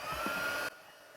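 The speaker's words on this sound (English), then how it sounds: "I'm going to heat emboss them onto this black cardstock" A heat embossing tool blows hot air onto embossing powder on black cardstock, a steady whirring fan hiss with a thin whine that cuts off abruptly, leaving quiet room tone.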